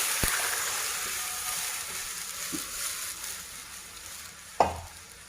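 Rasam tempering of spices and asafoetida crackling in hot oil, a soft steady sizzle with a few sharp utensil knocks and one louder clank near the end.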